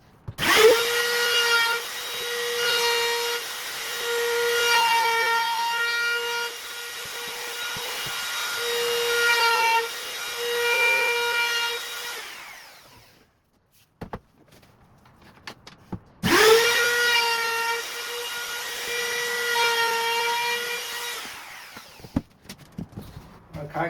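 A power router rounding over the edges of a wooden window sill, running in two long steady bursts with a pause between, its whine close and loud.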